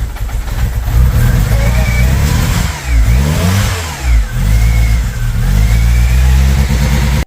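A VW Polo engine running lumpy after a carburettor flange change, loud and close, idling unevenly and revving up and down in several swells with dips between them.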